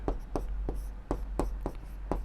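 A pen or chalk writes on a board or paper during a math lesson, with sharp rhythmic strokes about every third of a second over low background hum, close and fairly quiet, without speech.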